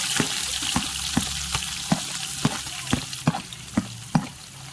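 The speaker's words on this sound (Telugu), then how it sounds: "ఇందులోనే కట్ చేసి పెట్టుకుని ఆనియన్స్ వేసుకోవాలి." Onions and fenugreek seeds frying in oil in a pan for bitter gourd tamarind curry, a steady close sizzle broken by regular sharp scrapes of a stirring spoon, with no talk.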